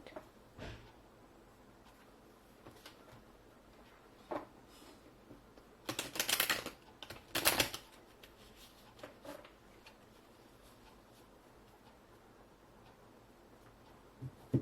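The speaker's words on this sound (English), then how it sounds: "I'm being called to shuffle once more, so I'm just gonna do that" Cards being shuffled: faint scattered taps and clicks, then two short riffling bursts in quick succession before it settles back to quiet handling.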